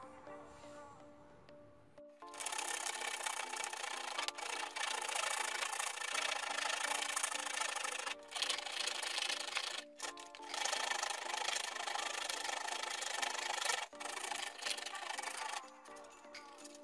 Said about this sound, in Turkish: Bunu şimdi biraz pürüzsüz hale getirelim, zımparalayalım.